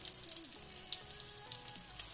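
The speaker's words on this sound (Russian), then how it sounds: "Прогревайте их около 3 минут с каждой стороны, периодически переворачивая, чтобы наггетсы получились хрустящими" Frozen Miratorg chicken nuggets fry in an open pan, a steady crackling sizzle with scattered pops running close and even throughout, with a faint tonal hum underneath and no voices.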